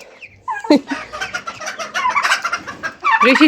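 Hens cluck and squawk in a henhouse, a busy overlapping chorus of short calls, loud and close, with bursts at the start and end.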